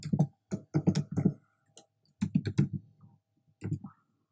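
Bursts of C code being typed on a computer keyboard, rapid clusters of close, crisp key clicks with short pauses between the runs.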